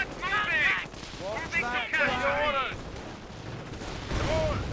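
A steady roar of battle from Company of Heroes, with incendiary grenades and gunfire rumbling beneath overlapping voices in unit chatter.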